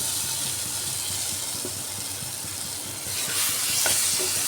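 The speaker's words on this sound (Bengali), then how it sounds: "আলুটা দিয়েও আমি একটু সময় ভালো করে কষিয়ে নিচ্ছি" Potatoes fry in a thick spice masala in a wok for a rohu fish roe and potato curry, giving a steady close sizzle broken by soft stirring scrapes, with the hiss growing brighter and louder toward the end.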